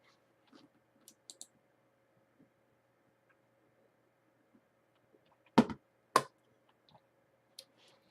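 Sparse computer mouse clicks during a tutorial on joining an online practice classroom, with a few soft ticks scattered through an otherwise quiet room and two sharper, louder clicks near the end.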